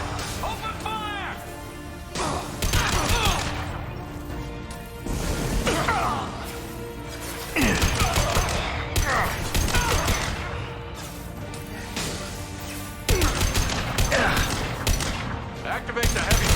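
Bursts of gunfire and heavy impacts during a Mass Effect 2 battle, loud clusters of shots separated by short lulls, with voices talking over the combat.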